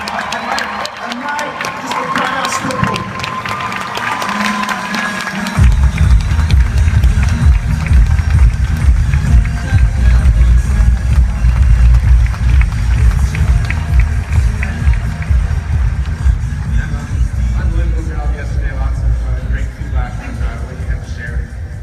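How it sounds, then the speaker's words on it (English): A large convention audience at a Juice Plus event in Phoenix, Arizona breaks into loud, sustained applause and cheering to welcome a speaker, swelling sharply after a few seconds of voices and then roaring on steadily. "massive round of applause, massive welcome to Emma Snedden"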